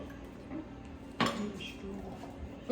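Chimichurri sauce is stirred in a bowl, with a sharp utensil clink against the dish followed by softer scraping, faint and close in a quiet home kitchen.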